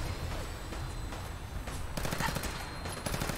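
A video game gun fires in rapid, heavy bursts with hard recoil, with clustered shots crackling through a dense, noisy game soundscape and a sharper volley near the end.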